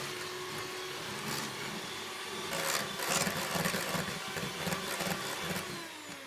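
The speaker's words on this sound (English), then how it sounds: "a bit of double cream in a bowl, very simply, and you're just going to whisk it up" Double cream being whisked in a bowl, a continuous busy scraping and rattling that grows denser and louder midway, close up with no talking.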